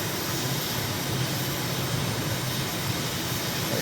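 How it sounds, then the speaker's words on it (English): Jet airliner taking off in Microsoft Flight Simulator near Taipei, Taiwan, a steady broadband engine roar that holds evenly loud throughout with no breaks. "Looks like somebody's taking off right now from our runway."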